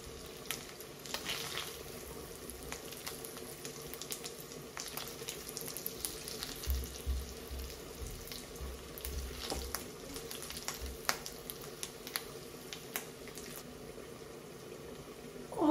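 Food frying in oil makes a quiet, continuous crackling sizzle with scattered pops throughout, and no talk is heard.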